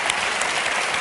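Dense, steady audience applause filling a hall at a jazz-themed Italian event, a sustained wash of many hands clapping with no voices over it.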